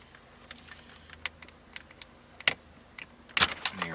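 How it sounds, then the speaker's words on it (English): Plastic clicks and rattles as a 12-volt connector is wiggled loose behind a Toyota Corolla dash panel, scattered sharp ticks building to a louder clatter near the end, close up. "there is a connector here at the 12-volt supply that we're going to wiggle loose"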